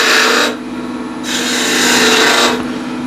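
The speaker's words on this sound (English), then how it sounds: "I'll go with the skew straight in, open it up with 2 V-cuts" Skew chisel cutting V-cuts into a spinning wood blank on a lathe, two bursts of steady hissing, rasping cutting noise, the second longer, separated by a brief quieter pause with the lathe's hum underneath.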